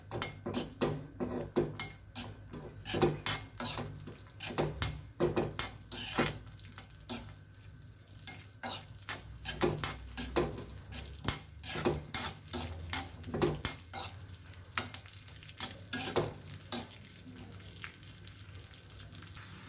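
Chopped dry fruits frying in a pan until crisp, with a soft background sizzle broken by many sharp scrapes and clinks of a spoon stirring against the pan, steady and close throughout.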